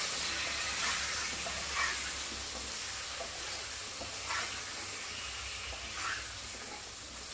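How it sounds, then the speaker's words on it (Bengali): Potatoes seasoned with salt and turmeric fry in oil in a pan while a rohu fish curry with vegetables is being cooked. A constant soft hiss of frying continues throughout, with a few brief stirring scrapes and no talk. "এবার আলুটাকে একটু ভেজে নেব ভালো করে।"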